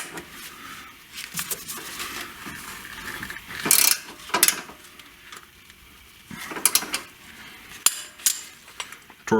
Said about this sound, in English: be putting the open end wrench on the hex